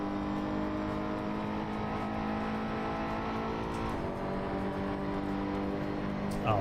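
A race car launching in Assetto Corsa, a steady loud engine drone climbing in pitch with layered harmonics and a brief dip midway, without voices.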